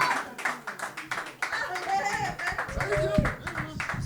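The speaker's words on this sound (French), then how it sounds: "Veuillez accueillir dans un tonnerre d'applaudissements et de vrombissements de pieds." Small audience at a slam poetry tournament clapping for a performer, scattered rhythmic hand claps under people talking and calling out, fairly faint.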